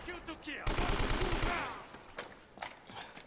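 Enemy gunfire in the video game Uncharted: Drake's Fortune, with one loud rapid burst of shots followed by scattered single cracks, while someone talks in between.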